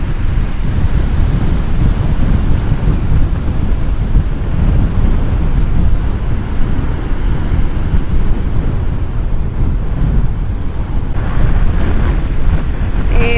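Ocean surf rolls and crashes continuously onto the shore at a layby on the coast near Stranraer, Dumfries and Galloway, Scotland, loud and steady with wind buffeting the microphone throughout.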